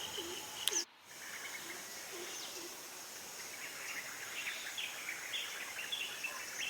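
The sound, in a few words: many birds calling at dawn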